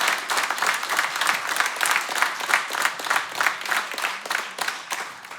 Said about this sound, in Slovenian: Hvala jim, malim zaploskajmo